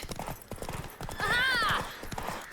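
Horse hooves clip-clop in The Witcher 3 game world as a steady rhythmic trot, heard alongside a whinny and game dialogue voices.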